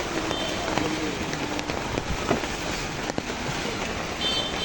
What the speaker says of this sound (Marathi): लय पाऊस चालू झाला रे.